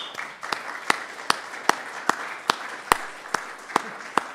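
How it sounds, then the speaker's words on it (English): A literature festival audience applauds a woman writer at a reading event, with a thin scattering of separate claps standing out sharply over a soft, sustained bed of clapping for a few seconds. "One big applause for her."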